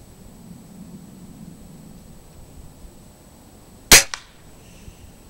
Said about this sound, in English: Alright, one more shot with the 22.